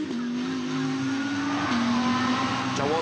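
A GT race car spinning on a racing circuit, its engine note holding steady then shifting as it turns, with tyres scrubbing and crowd or track noise in the background.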